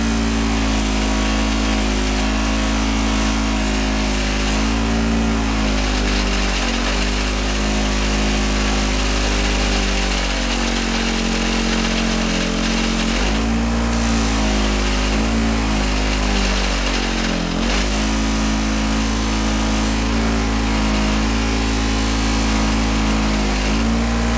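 A motor-driven buffing wheel polishes a steel part with black, red and white compounds, giving a loud sustained motor hum that rises and dips as the part is pressed against the wheel, with no speech.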